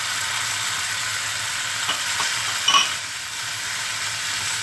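Onion and tomato fry in a pan for panchmel dal, giving a close, steady sizzle broken by a few brief clinks and scrapes as the mixture is stirred.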